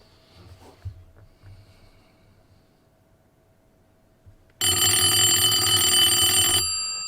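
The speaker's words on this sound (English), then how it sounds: "I am now going to dial the phone." An old telephone connected through a Polycom Obi200 VoIP adapter bursts into a loud, bright mechanical bell ring after several quiet seconds of faint handling noise, ringing for about two seconds before stopping.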